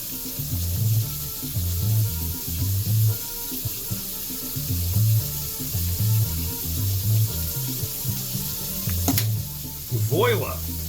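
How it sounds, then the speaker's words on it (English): Water heats in a pot for instant noodles, giving a steady hissing, faintly bubbling rush over a pulsing low hum, with a brief clink and a short scrape near the end. "Get the water boiling for the next review."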